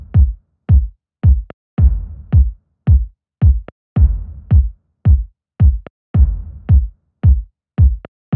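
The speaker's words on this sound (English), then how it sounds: "So there's this kick part." A kick drum part plays a steady, syncopated groove of deep, punchy thumps with quick doubled hits, loud and dry, with faint noisy textures layered under some beats and no other instruments or voices.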